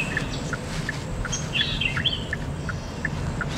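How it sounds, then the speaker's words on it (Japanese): Birds chirp and tweet in short repeated calls over a steady low hum, a recorded 'lively forest' birdsong track played quietly inside a Hyundai Nexo fuel cell car, with no voices. "これ鳥のさえずりが聞こえたりするんです"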